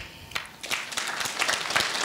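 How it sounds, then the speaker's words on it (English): An audience at a gala dinner claps after a poetry performance, with dense applause that swells and then holds steady. "you didn't have to clap"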